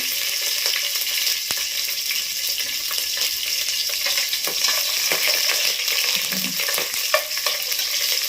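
Garlic and three green chillies fry in hot oil, giving a close, steady crackling sizzle with scattered pops and a few stirring sounds throughout.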